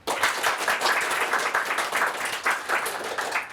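Brief burst of audience applause, a dense steady patter of many hands clapping at moderate loudness, no voices over it.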